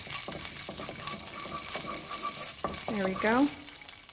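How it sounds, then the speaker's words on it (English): Garlic paste and ginger paste sautéing in frying oil, a close, steady sizzle with a utensil scraping and clinking against the pan, and a brief spoken remark near the end. "I'm going to give that a quick saute."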